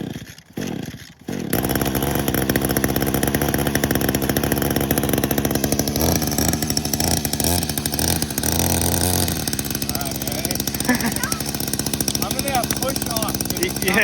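Homemade scooter powered by a string trimmer motor through a chain drive, revving loud and raspy after a short start-up, running steadily close by with fluctuating pitch and people talking over it.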